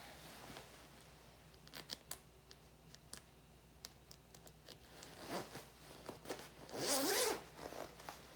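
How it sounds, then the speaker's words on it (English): A jacket zipper being zipped up, heard as a run of quick rasping zips with scattered clicks and fabric rustles, ending in a louder, longer zip near the end, fairly close and with no talk. "My zippers on every jacket I've ever owned always suck."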